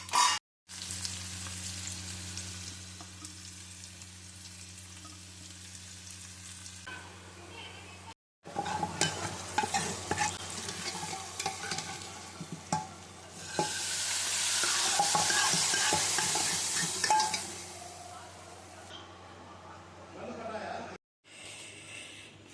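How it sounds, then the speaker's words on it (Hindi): Half a spoon of cumin seeds sizzling and frying in ghee for a tempering, with a spoon stirring in the pan; a steady close crackle that turns into a louder burst of sizzle, with occasional clinks. "तो जी छोंक लगाने के लिए मैं इसमें डालूँगी घी।"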